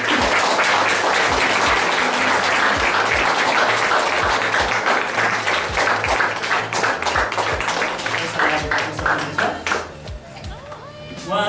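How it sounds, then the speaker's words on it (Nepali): Loud applause from a church congregation welcoming guests: dense, steady clapping that fills the space, with some sharper individual claps standing out, gradually thinning toward the end. "हामी सम्पूर्ण मण्डली परिवारले यहाँहरूलाई हामी जोरदार तालीको साथ हामी स्वागत गर्नेछौँ"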